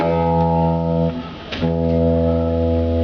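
A low E guitar string rings with rich harmonics, briefly dipping and muffled midway before ringing on again steadily.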